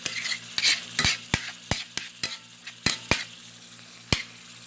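Pasta sauce for cheesy bowtie pasta cooking down and beginning to boil in a pot, with a soft steady sizzle and bubbling under a series of sharp spoon clicks and scrapes against the pan.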